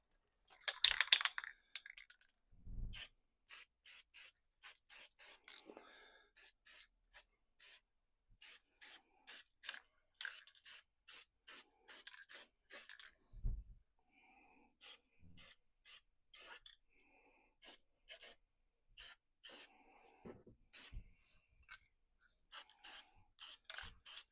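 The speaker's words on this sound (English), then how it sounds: "I don't get any white overspray on those." A can of white spray paint hisses onto a project in many short, even bursts with quiet gaps between them, close by and fairly soft.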